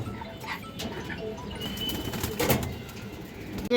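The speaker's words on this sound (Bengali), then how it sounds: "লাল মুসলদম নর কবুতর আছে মাশাআল্লাহ" A red Muslodom male pigeon coos in low, soft calls at close range over a steady background hum.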